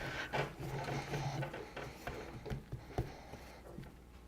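Cookie dough rolled out on a table with a rolling pin, a faint close rumble with soft knocks and rubbing scrapes, steady rather than rhythmic.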